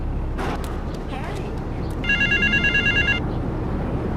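An old-style telephone bell rings in a rapid trill for about a second in Grand Theft Auto 3, clear over busy city and radio-style background noise with some speech around it.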